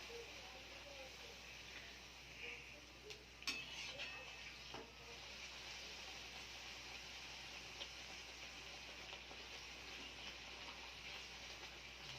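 Sweets frying in a pan give a faint, steady sizzle with a few light clinks of utensils against the pan, quiet and close.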